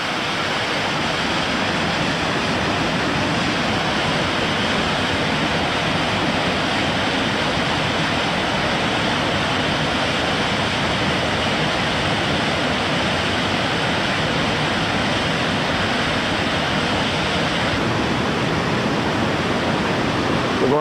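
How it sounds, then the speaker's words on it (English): Heavy water pouring steadily over the main falls of the Amacon River in a state park, a dense, constant roar close by with no breaks and no voices. "we're here at the main falls of the Amacon River now"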